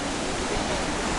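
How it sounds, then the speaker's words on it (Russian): Sea waves on the shore at Zelenogradsk, a dense, constant rushing surf that fills the whole sound, close and fairly loud. "какие волны"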